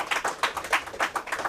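A short burst of audience clapping after a poem at a college stage event, heard as quick, close, uneven claps in a brief round.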